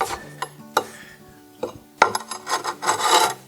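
A flat bar scrapes and rasps against wooden stair treads and risers to pry out staples, with sharp metallic clicks and pops between stretches of grating and scraping, close and fairly loud.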